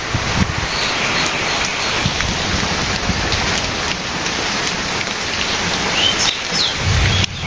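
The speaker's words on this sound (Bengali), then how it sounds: "বৃষ্টি হচ্ছে আপনার পশ্চিম দিক থেকে আসতেছে তাই না" Rain falling outdoors in a village, a dense steady patter on surfaces with scattered louder drops, continuous and close throughout.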